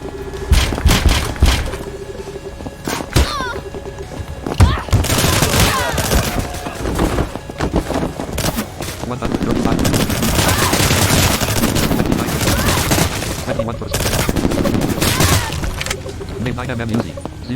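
Rapid bursts of 9mm Uzi fire from the Scarlet Shell video game, loud and repeated in clusters with thuds and impacts, while a voice talks over much of the action.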